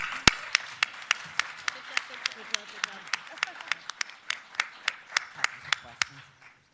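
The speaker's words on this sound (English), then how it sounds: "I'd like to give them all a round of applause" Sparse clapping for the panelists at a skills conference: individual claps land in a steady, evenly spaced rhythm, close and crisp, over a faint hum of background voices.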